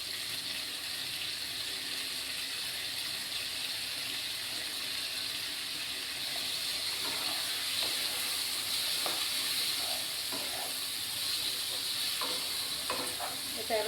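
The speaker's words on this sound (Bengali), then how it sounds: "এটা এবার কষতে থাকবো আমি।" Ginger, cumin and green chilli paste with turmeric sizzles steadily in a pan, a continuous hissing fry with occasional stirring scrapes toward the end.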